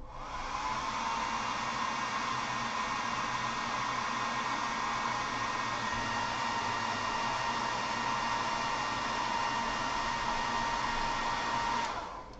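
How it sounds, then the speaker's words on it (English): A blow dryer runs steadily on a freshly painted rust finish to dry the pigment fixer, a loud continuous whooshing hum that holds for about twelve seconds and then switches off, with no talking. "so I'm just gonna hit it with the blow dryer real quick."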